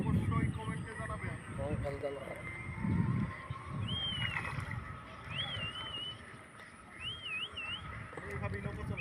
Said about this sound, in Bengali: এইভাবেই নৌকা চালাই।